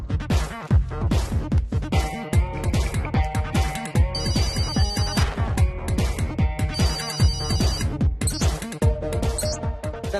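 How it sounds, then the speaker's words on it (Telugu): A telephone rings in a Telugu comedy film scene, its repeated electronic ringtone bursts sounding loud and close over a busy, dense music track, with no talking. "ఫోన్ రింగ్ అవుతుంటే ఎత్తరేంటి?"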